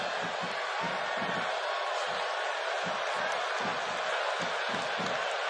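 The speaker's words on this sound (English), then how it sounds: "by the sound of this Milwaukee crowd" A Milwaukee arena crowd roars steadily throughout a WWE 2K18 wrestling match, a dense, continuous wash of cheering with scattered whoops and thuds from the ring breaking through.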